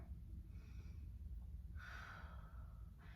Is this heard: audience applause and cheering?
no